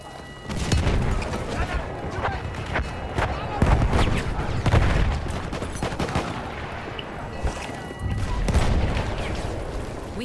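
Battlefield 1 artillery strikes and gunfire from a battle scene, with repeated booming impacts and rattling shots in dense bursts. The noisy combat carries on throughout, and a voice is faintly heard beneath it.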